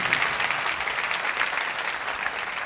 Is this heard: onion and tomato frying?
no